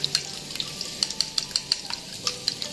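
Metal utensil stirs beaten eggs in a hot pan for fried rice, giving a steady run of sharp clinks and scrapes over a soft sizzle, close and clear.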